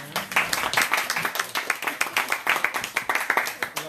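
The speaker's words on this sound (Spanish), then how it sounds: "Un aplauso grande al Señor." A church congregation clapping together, a loud, close, steady burst of applause for about four seconds, with a faint voice underneath.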